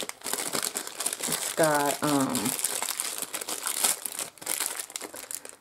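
A big sticker is peeled off a silicone resin mold in several crackling, papery bursts, up close, while someone talks over and between the tearing sounds.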